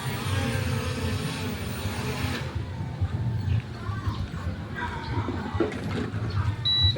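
A small consumer drone hovers close by. Its propellers make a steady, loud buzzing whine that runs throughout, and people talk over it.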